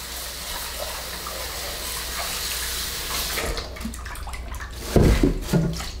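Kitchen tap running steadily as fresh coconut meat is rinsed under it, a continuous close splashing stream that shifts and gurgles toward the end as the meat moves through the water.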